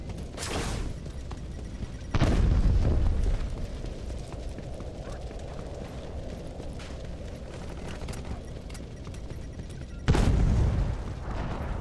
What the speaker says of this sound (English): I think somebody's chucking grenades just for the fun of it.